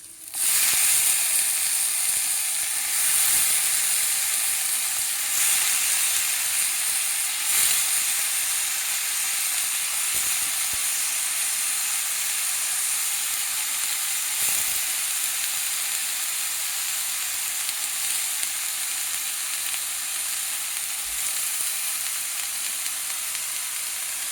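Loud, continuous sizzling and steaming hiss from a pan of ridge gourd pieces cooking in their own moisture, steady throughout with a few faint clicks and clatters underneath.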